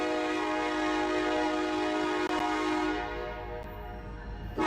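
BNSF freight train led by an SD70ACE locomotive rolling past with a sustained, loud horn blast and steady rumbling wheels, the horn tapering off near the end while the rumble continues.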